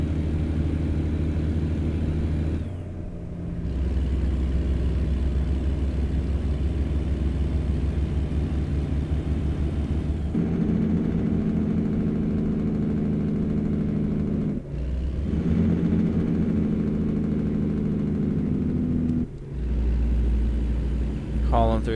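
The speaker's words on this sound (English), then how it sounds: "truck's engine brakes sound so good" A heavy truck's engine brake in American Truck Simulator, a loud continuous low rumble that shifts in pitch several times as it gears down, with brief drops in between and no voices.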